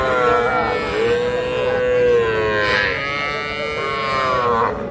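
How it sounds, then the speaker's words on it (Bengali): A Sahiwal heifer calf at a cattle market gives a long, loud, drawn-out moo close by, with a bellowing pitch that wavers over several seconds. "এটা একটা শাহিওয়াল জাতের বকনা বাছুর।"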